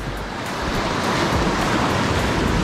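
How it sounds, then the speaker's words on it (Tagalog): Strong ocean waves crash loudly and continuously against the rocky shore at Butas Butas Cave in Mauban, Quezon, a close, roaring surf with no voices over it. "Ayan na, laka ng alon mga kayote."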